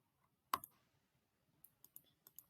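Computer mouse clicks while working in furniture design software: one sharp click, then a quick run of several lighter clicks in uneven rhythm, close and crisp against near silence.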